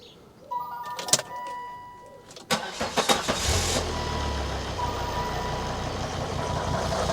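Diesel engine of a 2003 Volvo XC90 D5 with a misfire cranks after a few clicks and catches, settling into a rough, uneven idle that runs steady and close-up with no talking.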